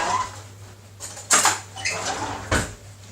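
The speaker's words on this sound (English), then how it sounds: "I'm going to give this milk a bit of a stir," A spoon stirs milk in a jug, giving a few light clinks and scrapes against the side amid soft kitchen background noise.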